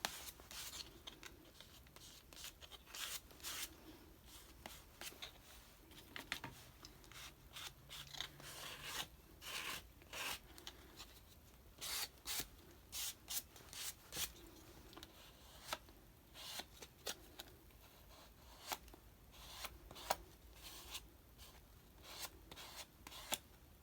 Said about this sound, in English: If you see an area that's bothersome to you, you can scrape some of that background paint back in.